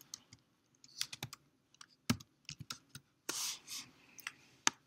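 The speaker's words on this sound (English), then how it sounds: "I'll start typing." Computer keyboard typing on a quiet desk: irregular, crisp key clicks in short runs, with a denser clattering burst partway through and a few isolated taps near the end, fairly faint and with no voices.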